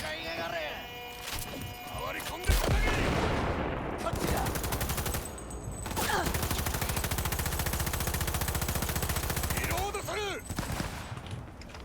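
Gunfire in the video game Cyberpunk 2077: long bursts of rapid automatic fire, a sharp blast near the start, then sustained rattling volleys with brief pauses, loud and close, while someone talks over it.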